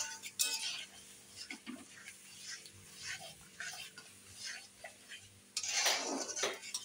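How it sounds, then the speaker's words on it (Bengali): Chana masala spices fry in a pot while a utensil stirs and scrapes, giving quiet intermittent clinks and scrapes over a soft sizzle, with a louder burst of sizzling near the end, no voices. "এবার আমি মশলার বাটি ধোয়া জলটা একটু দিয়ে দিচ্ছি, আর আরও একটু কষাবো"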